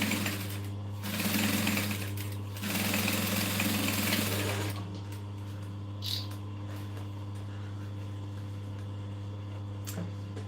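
A sewing machine top-stitches a curved seam on a fabric clutch bag, running in two close, steady bursts of rapid stitching before stopping, leaving a constant low electrical hum and a few small clicks.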